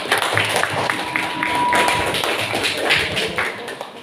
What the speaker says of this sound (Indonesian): Tepuk tangan dulu untuk saudara.